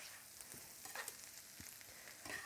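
Bacon and onion fry in a hot pan, a soft, steady sizzle with faint crackles and a few light clinks of stirring, quiet and without talk.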